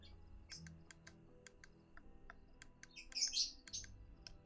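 Pet birds, upset and agitated, give sharp high chirps in quick irregular bursts, close by, with a brief louder squawk partway through and faint clicking between the calls.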